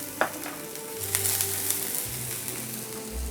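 Garlic and shallot frying in a preheated pan for a seafood pasta give a soft, steady sizzle with a few stirring scrapes and faint low hums, quiet and close.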